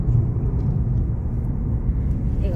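Steady low rumble of a car driving on a road, a continuous engine and tyre drone heard from inside the vehicle with no breaks.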